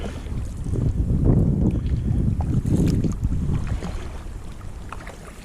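A Pungo 120 kayak is paddled along a winding Florida river creek, with soft rhythmic splashes and swishing strokes rising and falling under steady wind buffeting the microphone.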